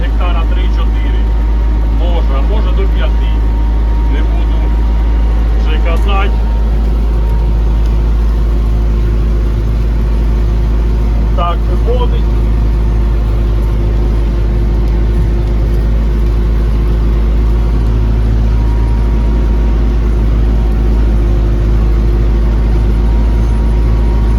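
An MTZ tractor drives through a sunflower field with a steady, loud low engine drone throughout, broken by a few brief rattles and knocks. Voices talk over the engine at intervals.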